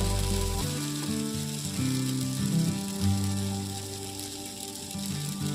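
Oil sizzling on a hot pan while making instant poha dosa: a continuous bright crackling hiss, fairly loud and steady throughout, under a droning low hum, with no voices.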